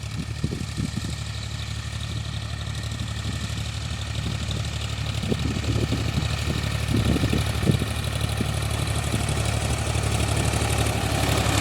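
A tractor engine runs steadily on a Punjab farm on a windy day, giving a continuous low idling rumble that swells slightly toward the end, with no talking.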